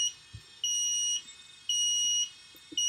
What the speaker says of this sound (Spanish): ¿Y por qué ha hecho ese pitido?